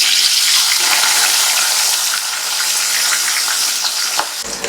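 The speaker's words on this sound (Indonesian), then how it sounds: "Sekarang kita goreng." Chilies, shallots and garlic fry in leftover anchovy oil, giving a loud, steady hiss and sizzle with a few crackles, heard close with no talking.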